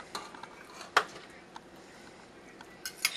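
A big spoon scoops stuffing into a Mexican-style Thanksgiving turkey with soft scrapes and a few sharp metallic clinks against the dish, close and fairly quiet.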